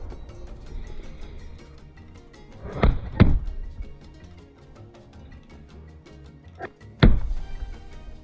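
Sharp wooden thunks as sling projectiles strike a plywood board, two close impacts followed by two more a few seconds later, each loud and abrupt against a quiet background.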